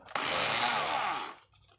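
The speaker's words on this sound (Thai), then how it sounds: "ใช้กับสว่านไม่ต้องเหนื่อยใช้ ไขควงมือไขนะครับ" A power drill fitted with a screwdriver bit drives a screw, giving one close, continuous whirring burst that starts sharply, holds for over a second and then winds down.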